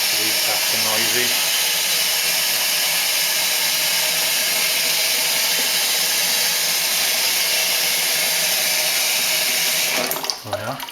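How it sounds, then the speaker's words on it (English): Loud, steady rushing of running water from taps fills the whole stretch, cutting off abruptly near the end with a brief clatter. "These taps are noisy."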